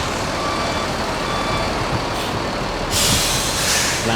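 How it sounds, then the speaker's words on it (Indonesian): Antar Lintas Sumatera ALS 388 bus in light drizzle: a steady wash of engine and rain noise, then a sharp, loud burst of air-brake hiss near the end. Reversing beeps may sit faintly in the mix. "Nah, ini bus yang kita naikin, ALS 388."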